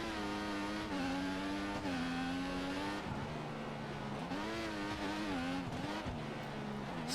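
Formula 1 car engine from the F1 2014 racing game, a loud high-pitched whine that rises and dips with gear changes and braking, continuous and close with no talking.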